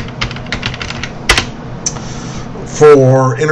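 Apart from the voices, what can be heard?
typing a netsh command on a computer keyboard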